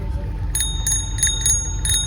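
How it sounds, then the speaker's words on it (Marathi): A small bell rings in quick, bright, repeated dings over a low background hum. "घंटी पण दिली यांनी"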